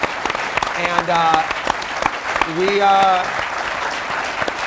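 Studio audience applause and cheering on a talk show, a steady clatter of many hands under voices, with a sung or shouted line standing out over the crowd.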